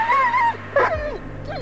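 Dog whimpering in the Blair Witch video game, a few rising and falling whines and yelps close by over a low steady hum, with no one talking.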